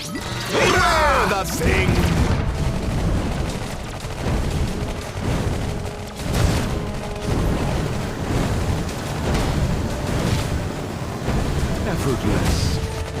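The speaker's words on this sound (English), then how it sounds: "Grenade!" Repeated heavy crashes and blasts sound off in a battle in Iron Marines, with dull booming impacts recurring every few seconds under spoken unit lines.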